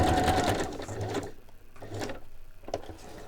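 A sewing machine runs a zigzag stitch through printed tracing paper for a journaling project, a close, steady mechanical whir in two bursts separated by brief pauses, with no talking.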